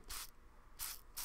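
A can of spray hisses out in three short, separate bursts, quiet and close by, with near silence between them.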